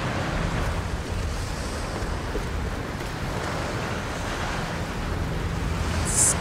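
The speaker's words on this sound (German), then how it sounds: "Das ist krass, wie windig das hier ist" Strong wind roars steadily through a hall in the Tomb Raider video game, a continuous broadband rush that stays loud and even from start to finish with no talk over it.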